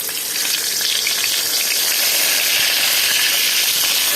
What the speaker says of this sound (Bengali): এরপরে দিয়ে দিলাম তেজপাতা,